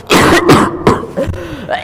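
A person coughs in a comedy skit, a few harsh, close bursts in quick succession followed by rough throat-clearing sounds.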